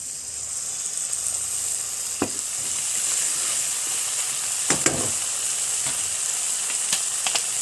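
Ground mustard paste hits a pan of cooked-down spices for a mustard chapila fish curry and fries with a steady, close sizzle. Occasional stirring scrapes and clinks cut through the hiss.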